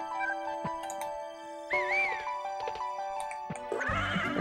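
A horse whinnies in a high, wavering call, preceded by soft clicks and tones, with a second brief rough cry at the end, in the PS2 game Harvest Moon: Save the Homeland.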